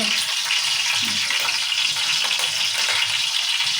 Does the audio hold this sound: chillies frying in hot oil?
yes